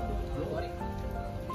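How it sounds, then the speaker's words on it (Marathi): Light drizzle falls at a farmhouse near Panvel during a school picnic, a soft, steady patter of rain with voices and talk close by. "बारीक बारीक पाऊस पण पडता."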